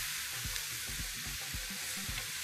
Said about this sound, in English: The onions are caramelizing.